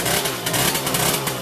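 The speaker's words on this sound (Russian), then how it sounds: "Второй раз в жизни завел мопед." A small Riga moped engine buzzes loudly up close, a rough steady revving drone with slight pulsing and no voices over it.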